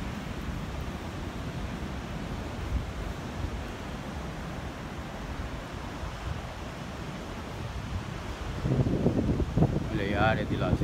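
Ocean surf on the beach at Porto de Galinhas, a steady broadband wash of waves with wind buffeting the microphone, growing louder near the end.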